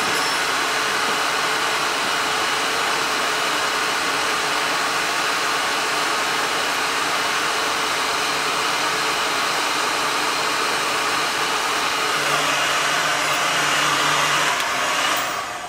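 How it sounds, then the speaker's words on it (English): A heat gun blows steadily as it shrinks shrink wrap onto a latex resistance band for baseball, a constant loud airy roar lasting the whole time with no talking. "Take your heat gun and shrink it on."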